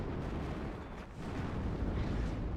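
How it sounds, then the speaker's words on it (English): Artillery fire in the real-time strategy game WARNO, a dense continuous rumble of distant shelling and explosions with low booming rolls, steady and moderately loud throughout. "Artillery is coming in."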